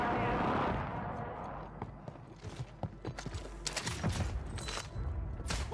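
Distant gunfire from a fight in Call of Duty's Verdansk Superstore area, scattered sharp cracks and short bursts over a noisy battlefield bed with a brief voice early on.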